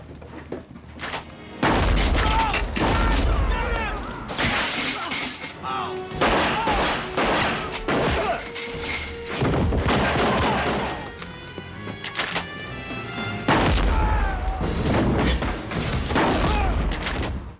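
Gunfire from the 1997 film L.A. Confidential, loud repeated shots and heavy booms in bursts during an ambush scene, with brief quieter gaps and some voices mixed in.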